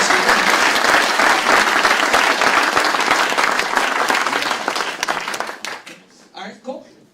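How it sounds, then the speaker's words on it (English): An audience at a conference event claps loudly for the presenter, the applause thinning out and fading near the end as voices begin talking. "Round of applause, of course, for Stephen."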